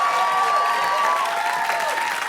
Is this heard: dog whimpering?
no